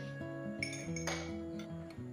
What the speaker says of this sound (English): I'm going to add some ice cube.